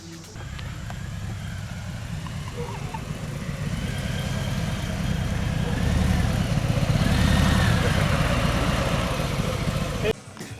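A 2019 Harley-Davidson Breakout with the 114 engine runs at idle, a steady low loping rumble that holds for about ten seconds, swells slightly midway, then cuts off sharply near the end.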